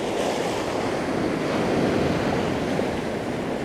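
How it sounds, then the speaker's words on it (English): Sea water rushes in at high tide beside a castle, a loud continuous roar of surf with wind buffeting the microphone. "I've got the water rushing up along here"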